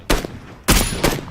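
Gunfire in the battle-royale game PUBG: three loud, sharp shots, the first alone and the next two close together after a brief pause, with no talk over them.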